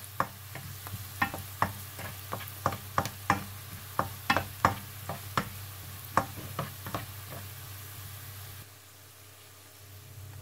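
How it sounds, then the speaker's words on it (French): Carrots frying over medium heat in a pan for ham and vegetable fried rice, a soft steady sizzle beneath repeated sharp scraping and tapping strokes of stirring, about twenty in irregular rhythm, close and moderately quiet. "Baisser le niveau de cuisson en moyenne pour ne pas griller des carottes, ni échalotes, ni de l'ail."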